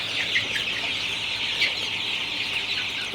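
A flock of 27-day-old Sonali super hybrid chicken chicks keeps up a dense, continuous chorus of clucks and cheeps in hot weather, close and steady throughout.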